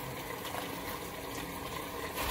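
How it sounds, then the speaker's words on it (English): Tap water running steadily over raw pork being washed in a kitchen before seasoning for stew, a continuous close splashing gush with no talk. "wash off the meat for it"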